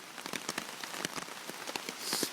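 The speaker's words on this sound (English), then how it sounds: "Started raining." Rain pattering on a tarp at night: a dense, steady run of close drops tapping the fabric, with no voices.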